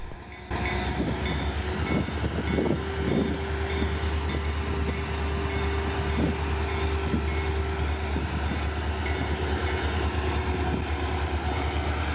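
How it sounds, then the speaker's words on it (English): A Reading & Northern freight train shoves down the line with a low steady engine hum, repeated wheel clicks and a sustained tonal whine, with track equipment following close behind. "the train continued its shove movement down the line, with a piece of track equipment following close behind"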